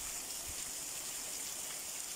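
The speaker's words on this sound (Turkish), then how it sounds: "Ama yağmur yağıyor." Steady rain falls on a vegetable garden, a constant broadband hiss of drops landing on the ground and plants, moderately loud and unbroken, with no voices.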